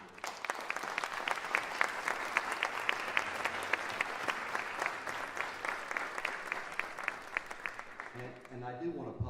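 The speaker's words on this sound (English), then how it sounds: "give the parents and the teachers a big round of applause" Festival audience at a university event giving applause for students, parents and teachers, steady crowd clapping with distinct rhythmic claps standing out, then fading as a voice begins speaking at the end.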